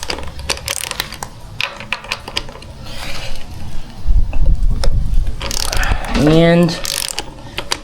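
A ratchet with a 23 mm socket loosens the fork cap bolts on a Kawasaki KX250F motorcycle, giving bursts of close, rapid clicking, with a brief tonal squeak near the end and one short spoken word.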